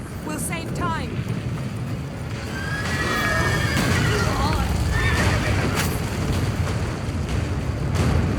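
A horse whinnies in The Witcher III: Wild Hunt amid loud rumbling, wind-like noise and shouting voices, with a second neigh rising over the steady background roar.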